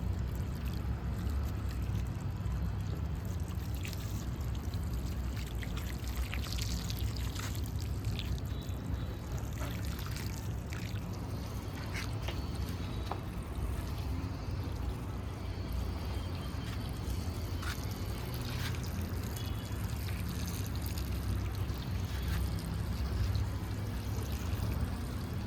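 Steady, continuous pour of water filling a large rooftop plant pot, a constant rushing and splashing wash that holds evenly for the whole stretch with no talk.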